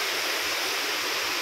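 Tinandayagan Falls in Libmanan, Camarines Sur, roars with steady, dense rushing water from the waterfall and stream, a loud, unbroken hiss that holds constant throughout.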